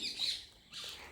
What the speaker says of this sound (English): Next is a myna.